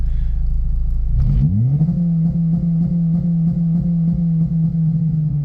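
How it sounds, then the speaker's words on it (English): Acura RSX DC5 engine revving and then bouncing off a BeeR rev limiter, first idling, then rising sharply and holding at the limit with a rapid, even stuttering cut, very loud and close. "the gain is how fast it bounces off the rev limiter"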